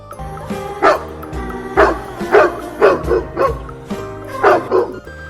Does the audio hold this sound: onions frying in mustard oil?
no